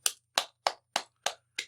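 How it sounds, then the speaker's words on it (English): Six slow, evenly spaced single claps from one pair of hands ring out sharply and close, each separated by silence in a measured mock-ceremonial rhythm. "Slow clap. Slow clap."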